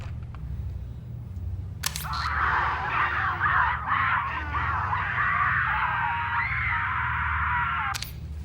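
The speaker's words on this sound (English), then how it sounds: "Does that guy just carry around a recorder of people screaming?" Recording of people screaming played back in the Doom movie, a continuous blend of many high, wavering shrieks and wails lasting several seconds, framed by sharp clicks at the start and end and set over a low rumble, with no talk.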